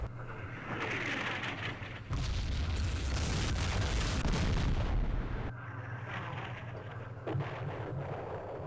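Artillery fire in a turn-based Vietnam War strategy game set in the Mekong, with heavy booming barrages and a dense rumbling roar that swells midway, then settles into a steady lower rumble of continued distant shelling.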